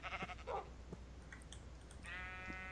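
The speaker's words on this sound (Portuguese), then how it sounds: "Essas ovelhas malucas." Sheep bleat in a Minecraft game, several short wavering bleats at moderate volume, with one near the start and a longer one toward the end.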